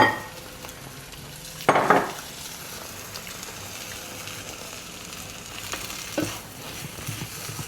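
Chickpea scramble with spinach frying in a pan gives a quiet steady sizzle, broken by a burst of stirring and utensil scraping early on and a soft knock later.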